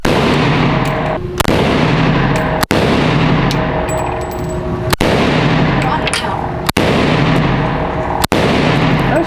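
Machine guns firing at a shooting range: dense, loud, continuous automatic gunfire with sharp isolated cracks about every one and a half to two seconds, close and overwhelming.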